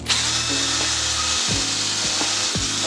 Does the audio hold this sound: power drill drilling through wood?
yes